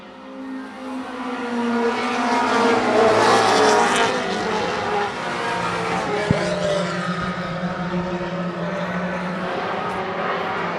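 Race cars from a Thunder 4 Mini class event roar around a short track in week 2 of the 2023 season, a loud sustained engine drone from several cars passing close, swelling and fading without talk.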